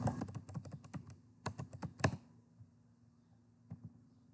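Someone types quickly on a computer keyboard, close and quiet, with a flurry of clicky keystrokes, a brief pause, then a final lone tap.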